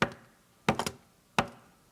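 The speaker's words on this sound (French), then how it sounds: "Le loup court derrière eux jusqu'à la maison de briques et il frappe à la porte." A wolf knocks on the door of the pigs' brick house in a French children's story: a lone knock, then a quick cluster of three or four raps, then one more, crisp and close with nothing else heard.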